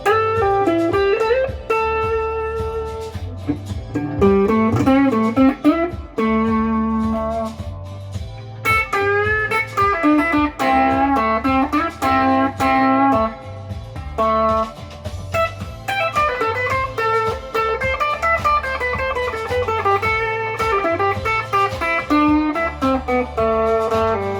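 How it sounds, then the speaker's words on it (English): An electro-acoustic guitar plays chords and melodic runs, shaped with EQ and a short touch of reverb, with no voices. "we've added some EQ and we've added some reverb, just a short amount of reverb"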